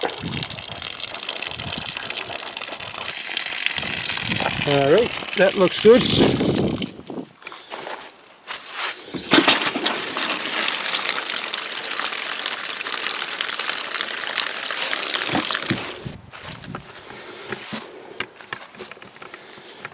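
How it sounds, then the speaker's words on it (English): Water gushes from an outdoor tap as it is first turned on, sputtering with bursts of trapped air in an uneven rush that stops and restarts, with someone speaking briefly over it. "Some air coming out of the water."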